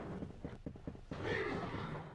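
A horse neighs loudly in a murder-mystery video game set in a horse mansion after a railing is destroyed, a rough whinny swelling up and holding over a busy game background with scattered thuds.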